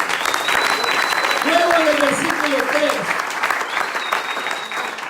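A church congregation applauds loudly in a steady, dense wash of clapping that lasts throughout, while a voice speaks over it.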